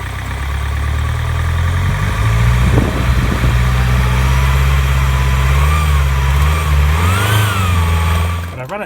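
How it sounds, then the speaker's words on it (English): A Land Rover Freelander TD4 with a smoky BMW M47 diesel engine idles loudly and close, with a low steady rumble and a few revs rising and falling, and a voice speaks briefly over it. "I'm going to start the car, it's going to be a bit noisy, rev it up,"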